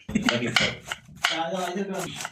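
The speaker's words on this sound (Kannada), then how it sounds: "ಮೊದಲು ಕ್ಯಾಬೇಜನ್ನು ಕಟ್ ಮಾಡಬೇಕು" A knife chopping cabbage on a board for a cabbage stir-fry, a few irregular close cuts and scrapes, mixed with speech throughout.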